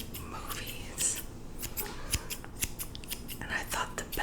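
Scissors snip close to the mic in an ASMR setting, a series of crisp, quiet cutting clicks and paper rustles at an irregular pace, with soft whispering alongside.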